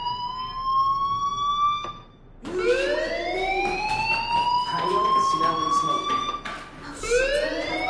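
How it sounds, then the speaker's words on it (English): Fire alarm in a PS4 video game ringing in rising, wailing electronic sweeps, a steady tone breaking off then resuming louder with stacked harmonic whoops, loud and continuous with talk beneath it. "Hey, do you hear that fire alarm?"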